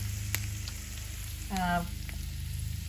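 Steady sizzling and frying of sweet potatoes in butter in a hot pan, close and continuous, with a brief clatter of stirring midway.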